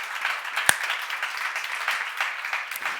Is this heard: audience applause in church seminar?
yes